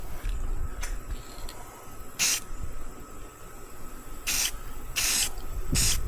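Rattle-can spray paint hissing onto a wooden glide bait in several short bursts, near and fairly loud, with steady background hiss between them.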